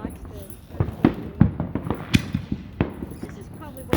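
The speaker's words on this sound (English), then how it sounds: "This is probably one of the best fireworks displays." Fireworks display on the Fourth of July in Austin, a rapid series of sharp booms and crackling pops at uneven intervals, loud and fairly close.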